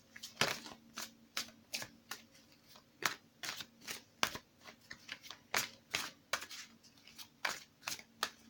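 Tarot cards being shuffled up close, a steady run of crisp, snappy riffles and flicks in quick irregular bursts, alone in a quiet room.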